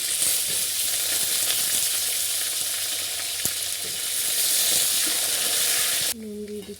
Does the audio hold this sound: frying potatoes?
yes